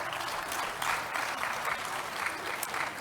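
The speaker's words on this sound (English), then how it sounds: "Let's give him a round of applause." Audience at a panel debate on food-crisis resilience breaks into sustained, even applause, a dense wash of clapping hands lasting a few seconds with no voices over it.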